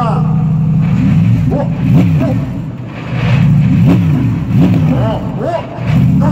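The Goodsmile Hatsune Miku Mercedes-AMG GT3 championship race car is revved at a motor show, each blip of the accelerator rising and falling in repeated swells. People talk over the engine throughout.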